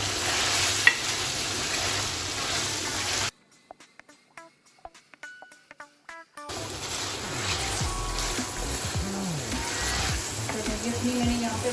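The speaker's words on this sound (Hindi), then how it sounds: "इसको हम अच्छे से भून लें।" Beef browning in ghee and yogurt for yakhni pulao: a loud, dense sizzle with stirring, broken by a short near-silent stretch of small clicks before the frying resumes just as strongly.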